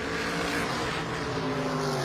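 A 1978 Corvette race car in a vintage racing event drives on the track with a loud, sustained engine roar. The pitch rises and falls slightly as it moves, and the car sounds close.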